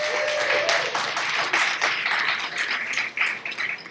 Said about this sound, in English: let's give a round of applause to our partners and mentors